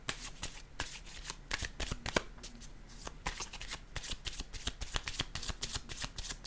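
Tarot or oracle cards shuffled by hand for a reading, a close run of rapid crisp riffling flicks and slaps that continues steadily throughout without talking.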